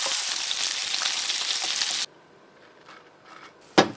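Beef burger steak patty searing in a hot pan with butter: loud, steady sizzling that cuts off abruptly, leaving quiet faint crackles, then one short sharp burst at the end.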